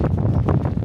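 Rough wind in 40-mile-per-hour gusts buffets the microphone beside a strapped-down Harbor Freight carport, a continuous low rumble with gusty surges throughout.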